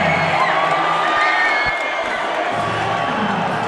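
A home crowd cheers and whoops at a basketball all-star slam dunk contest, loud and sustained roar with shouts throughout.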